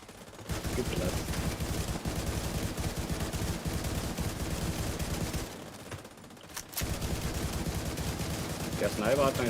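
Sustained gunfire and weapon bursts from the Division 2 video game fill most of the span, dense and loud, with a brief lull before the firing resumes.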